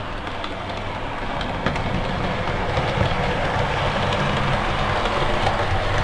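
An OO gauge model train, with a Class 37 locomotive hauling the Revolution Trains 'Caroline' inspection saloon, runs steadily over express points, giving a continuous rolling rumble with faint rail clicks throughout, close and alone.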